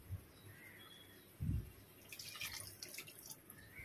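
Water is poured into a cooking pot on a home stove, a soft trickle with scattered drips and splashes, faint and close, with no talking.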